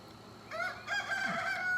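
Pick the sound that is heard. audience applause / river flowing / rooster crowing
rooster crowing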